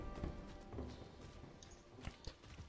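Horse hooves clip-clopping in the video game Diablo IV, a faint, uneven series of soft thuds and taps at a walking pace over a low background hum.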